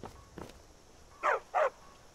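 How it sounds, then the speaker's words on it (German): Two short, clear barks from a large dog in Skyrim at dusk, following a couple of fainter footfall-like thumps, close and fairly quiet against a soft game ambience. "Oh, bist du aber ein braver Hundi."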